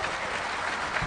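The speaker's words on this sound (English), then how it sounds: "Give yourselves a round of applause." Conference audience applauding at the DEFCON 17 closing ceremonies, a steady dense wash of clapping that holds at even loudness through the short burst.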